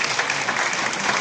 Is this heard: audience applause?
yes